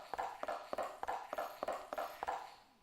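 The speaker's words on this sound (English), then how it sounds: "we could still hear the leather over our wood footsteps" Footsteps on wood in a Unity game with leather Foley layered over them: evenly paced, close hollow knocks, each step topped by a soft creaking rustle.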